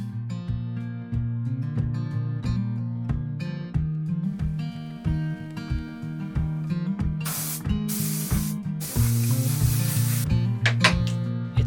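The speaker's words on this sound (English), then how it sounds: "All the excess material is sanded away." A chambered wooden surfboard is sanded in several loud, hissing, broadband strokes near the end, heard over steady rhythmic background music.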